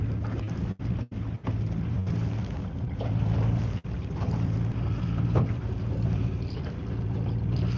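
Wind gusting across a lake while fishing from a boat at Canyon Ferry, a steady broadband rush with low hum from the boat, loud and continuous with a few brief dropouts.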